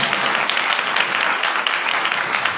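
Enthusiastic congregational applause at a church sermon, a dense steady wash of many hands clapping that holds loud and continuous throughout, with no speech over it.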